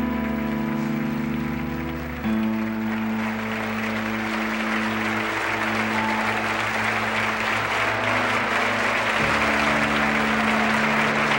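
Sustained enthusiastic applause fills the U.S. Congress chamber for Corazon Aquino's address, a dense continuous roar of many hands with a steady hum beneath, holding loud throughout.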